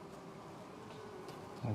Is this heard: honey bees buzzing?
yes